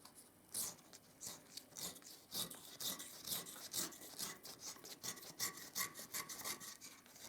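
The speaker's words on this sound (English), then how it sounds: "using a razor blade, pull backwards on a slight angle round that way" Razor blade scraped backward at an angle along a bedroom wall edge against plaster, a quiet rhythmic series of rasping strokes repeating steadily throughout.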